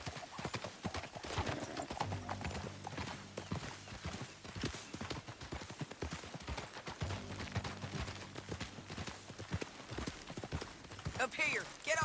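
Horses gallop across a canyon in Red Dead Redemption 2 with rapid, continuous clip-clop hoofbeats at moderate loudness, mixed with game music and occasional voices.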